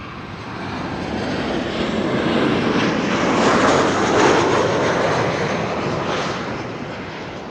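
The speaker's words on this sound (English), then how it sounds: "Transavia flight 6594 is arriving from Salzburg. That's a 737-800, and it will be passing in a moment." A Transavia Boeing 737-800 passes at Amsterdam Schiphol Airport, its jet roar swelling to a peak near the middle and then easing away, with no talk.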